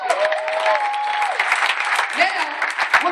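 Conference audience at a New York business meeting claps and cheers steadily for about three seconds, dense and close, with a voice shouting over the applause.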